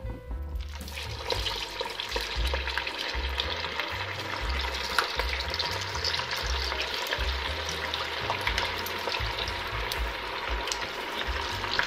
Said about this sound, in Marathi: तेल छान गरम झालेलं आहे. आता आपण मेदू वडे सोडूया.